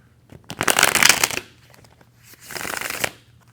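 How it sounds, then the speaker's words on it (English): Two bursts of tarot cards being shuffled up close, a longer riffle followed by a shorter one after a brief pause. "Let me shuffle this."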